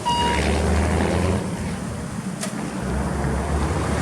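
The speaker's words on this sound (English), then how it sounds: "It's a good running LP gas engine, the automatic transmission." A Mitsubishi FG18 forklift with an LP gas engine and automatic transmission idles steadily nearby, a constant low rumble with a slight dip midway.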